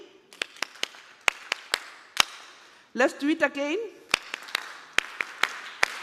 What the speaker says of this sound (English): there is a special clap that we use, during the farmer field schools